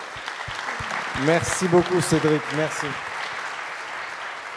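An audience at a round-table discussion claps steadily while someone speaks briefly in French over the applause.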